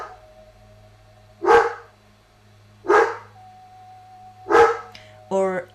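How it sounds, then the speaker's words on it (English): A dog barks three separate times in a quiet indoor room over a low steady hum, each bark loud and near, followed by a short higher yelp at the end. "like the dog barking."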